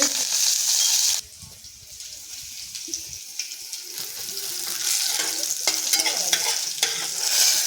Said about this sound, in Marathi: मिरची भाजली हिंग टाकायचा लसूण टाकत आहे